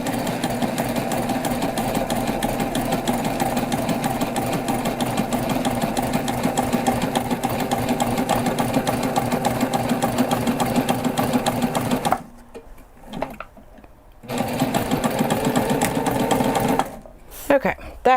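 A sewing machine stitches through thick backpack fabric, running in a loud, steady mechanical whir with a short stop near the end and a brief pause just before it restarts.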